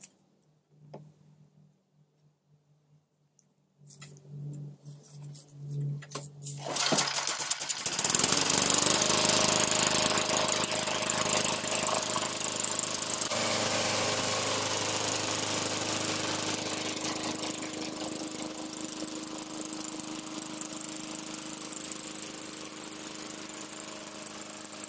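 An older Tecumseh engine on a Craftsman Eager1 lawn mower, fresh gas added, is pulled a few times, catches and roars into a loud steady running drone that continues close by, no voices.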